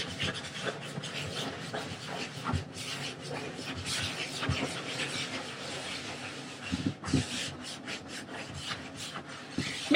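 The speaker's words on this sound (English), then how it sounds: "take your sponge and just start working in circular motion, just rubbing out everything on the cushion" A sponge scrubs a microfiber chair cushion in circles, producing a continuous rough rubbing and rasping with uneven surges of pressure, close and fairly loud throughout.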